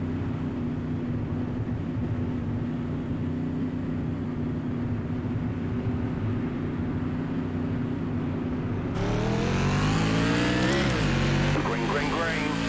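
Modified stock cars in an iRacing NASCAR Whelen Tour race at Concord Speedway drone steadily under pace, then roar up together at full throttle in a loud, rising engine surge with pitch sweeps as the field goes green.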